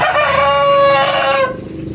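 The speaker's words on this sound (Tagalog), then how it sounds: "Ang laki ng tandang." A big rooster crows on a farm where eggs are being collected, one loud, close, drawn-out call lasting about a second and a half, with no talk over it.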